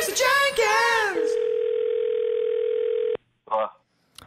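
A steady telephone dial tone holds for about two seconds during a prank phone call. It follows a short burst of voice and is cut off abruptly, with a brief sound after.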